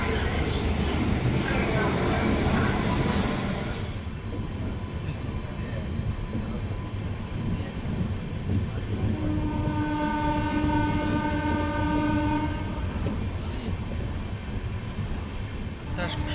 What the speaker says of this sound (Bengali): ট্রেন ছাড়লো ঠিক 5:30টায় ধানবাদ জংশন স্টেশনের 1 নম্বর প্ল্যাটফর্ম থেকে